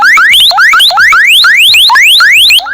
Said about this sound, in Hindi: अब जैसे मैं चार्जिंग यहाँ से हटाऊंगा मोबाइल फोन की तो ये अलार्म जो है ये बजना स्टार्ट हो जाएगा।